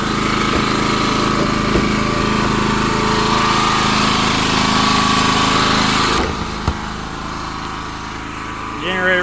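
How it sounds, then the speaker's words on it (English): A propane-fuelled generator in a homemade enclosure runs with a steady, buzzing drone, loud and close, then drops lower near the end after a brief knock. "Generator running off propane."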